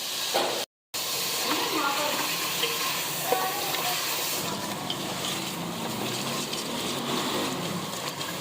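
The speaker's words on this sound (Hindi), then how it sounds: "अब इसके अंदर 4 चम्मच लहसुन अदरक का पेस्ट डाल देंगे। इसको भी फ्राई कर लेंगे हम।" Chicken pieces frying with four spoons of garlic ginger paste in a curry pot, a steady loud broadband hiss and sizzle running throughout, with a brief dropout near the start.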